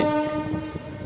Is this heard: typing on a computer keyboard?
no